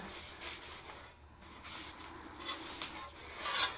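Wax is rubbed onto a hot forged iron wreath hook, making a dry, rasping friction sound in uneven strokes, close and moderately loud, with no voices.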